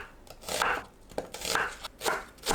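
A knife cuts rhythmically, a few crisp slicing strokes through an onion on a board, close and fairly quiet, with no talking.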